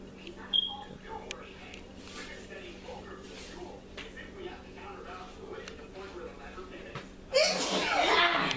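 Someone sneezes in a home kitchen while a pound cake is being made. The brief, sharp sneeze sits among conversation and light laughter, and a louder burst of noise comes near the end.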